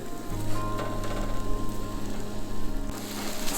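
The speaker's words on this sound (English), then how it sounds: "It's already starting to sizzle here." Ripped-up meat sizzles in a pan at a snowy car campsite, a steady crackling hiss with a low hum underneath, continuous and close.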